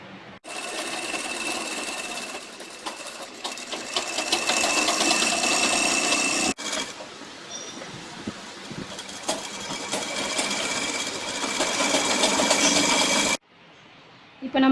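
A sewing machine stitches lining cloth into a blouse, running in long, loud, continuous whirring bursts with a brief stop partway and a sudden halt near the end, close by.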